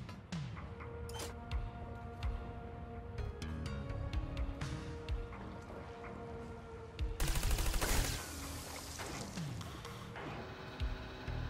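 Gunfire in the PS4 game Trials Blood of the Dragon, rapid bursts of shots over game music and mechanical sounds, with a louder, more intense volley toward the middle.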